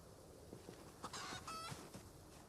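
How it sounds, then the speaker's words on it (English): A chicken in the zombie survival video game Project Zomboid gives a few short, faint clucks and squawks over a low hiss of background ambience, with no talking. "I heard a chicken."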